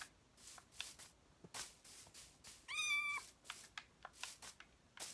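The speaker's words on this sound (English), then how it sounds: "That was a baby cat." Baby cat in the Minecraft video game letting out one brief, high, wavering meow midway, set among soft scattered clicks and shuffling noises, with no voices.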